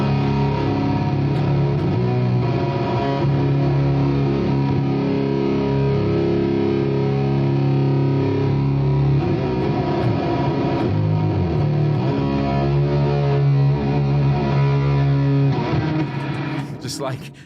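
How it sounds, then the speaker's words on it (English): Heavy fuzz electric guitar on a Victory amp's high-gain channel with an octave effect stacked on top drones thickly and continuously, loud and close, with long sustained saturated notes. "it'll generally be fuzz on like my high gain channel with an octave on top of that"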